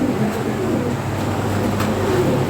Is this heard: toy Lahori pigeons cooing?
yes